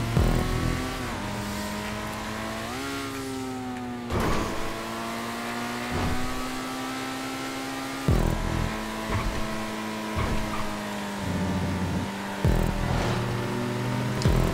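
Race cars driving and revving in GTA 5, engines droning loudly and continuously while the pitch climbs and drops through gear shifts, with brief tire squeals and roaring passes. No talking.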